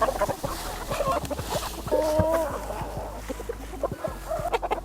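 A flock of chickens of several breeds clucking and squawking busily together, close and continuous, with one drawn-out call in the middle and scattered pecking clicks.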